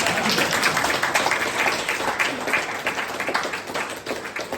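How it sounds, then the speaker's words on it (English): Audience applause closing an evening nutrition workshop: dense, steady clapping from a room of people continues for several seconds, close and fairly loud, fading slightly toward the end. "I think the team has done awesome, so I think we deserve a round of applause."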